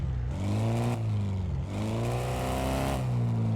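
A car engine in Car Mechanic Simulator revs up loudly twice, pitch climbing and falling in surges, with a synthetic, game-like tone and no talking.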